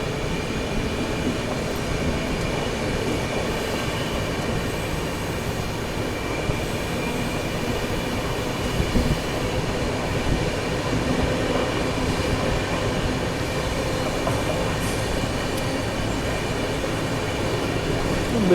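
The 12658 KSR Bengaluru–MGR Chennai Central SF Mail rolls slowly past Kuppam station, a steady, close rail rumble with a faint wheel clatter throughout and no voices.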